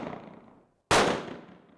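A single loud handgun shot cracks at a shooting range. It follows the fading tail of an earlier report and rings out into a decaying echo.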